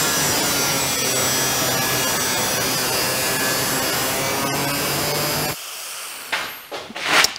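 A power saw cuts away a section of roof panel on a 1951 Chevy rat-rod truck, a loud continuous grinding rasp that stops abruptly, followed by a few sharp metallic scrapes and clanks.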